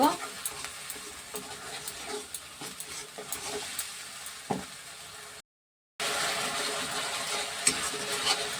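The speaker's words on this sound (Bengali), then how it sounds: "টমেটোটা দিয়ে দিলাম ভালো করে এটা নেড়ে নেব" Ground tomato paste stirred into spices frying in a pan for a Bengali rohu fish kalia, with steady scraping and sizzling throughout, a brief cut to silence midway, then continuous frying noise resuming.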